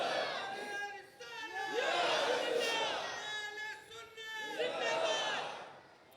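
Crowd voices chanting slogans in unison at a religious gathering honouring Ghaus al-Wara, a loud rising-and-falling roar that swells in two long waves, with shouted harmonics over a dense crowd.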